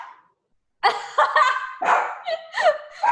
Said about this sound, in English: I'm too loud for your dog.